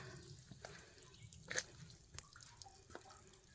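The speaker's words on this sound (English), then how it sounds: "You can hear the water coming down." Water dripping inside an old mine, scattered drops falling at irregular intervals with one sharper, brighter splash midway, all faint and echoing against a low background rumble.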